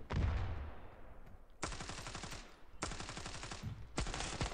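Bursts of automatic gunfire from the mobile shooter Standoff 2, with three loud rapid-fire volleys following an opening stretch of shots, each volley a dense rattling run of rounds, no talking.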